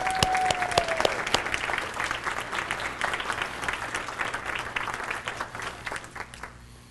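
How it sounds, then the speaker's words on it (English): Banquet dinner guests give a sustained round of hand clapping, a steady patter of many hands that starts with a few sharp claps and a brief tone, then slowly thins and fades out over about seven seconds. "if we all can give Bill Hiscock a wonderful hand clap"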